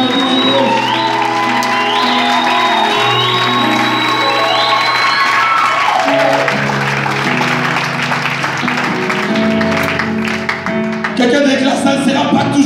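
A church congregation at a worship service cheering and applauding, loud crowd clapping with shouts and whoops over music and singing, swelling and continuing throughout.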